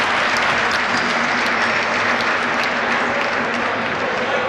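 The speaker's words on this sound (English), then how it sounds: "Let's give them a huge applause." A crowd applauds the teams at a university home basketball game, with loud, dense, steady clapping that fills the whole stretch without a break.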